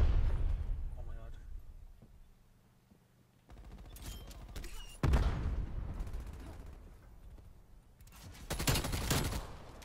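KSP 45 gunfire in a first-person shooter video game, coming in loud bursts of rapid shots separated by quieter gaps, with heavy impacts and a voice speaking between volleys.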